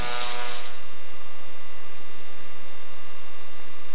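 An aircraft engine and propeller hold 1,800 RPM during a ground runup, giving a loud, steady tonal hum with many fixed harmonics that stays unchanging and close throughout, with a brief hiss at the start.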